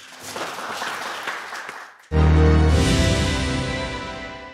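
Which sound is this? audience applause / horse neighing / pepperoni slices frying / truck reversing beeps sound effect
audience applause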